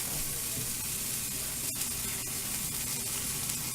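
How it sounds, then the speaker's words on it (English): A piece of bread fries in a frying pan at breakfast, giving a steady, dense sizzle throughout with a few small pops and crackles, close and fairly quiet. "you can go ahead and fry that up too."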